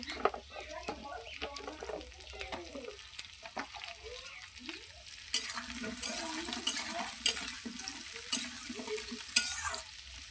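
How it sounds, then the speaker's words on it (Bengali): Pointed gourd pieces are dropped into a hot pan for a katla fish curry. Quiet stirring and scraping give way to a sudden loud, continuous sizzle that keeps hissing to the end. "এবার দিয়ে দেবো পটলগুলো"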